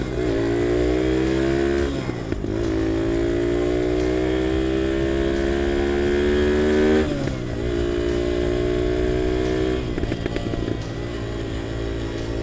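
A revived UM DTF 150 dirt bike rides at road speed, its single-cylinder engine buzzing loud and close with rising pitch through each gear, broken by brief dips at shifts roughly every few seconds.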